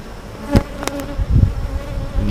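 Honeybees buzz around an open hive with ten frames in the brood box, close and busy, with individual bees zipping past the microphone in sharp bursts over a low steady hum.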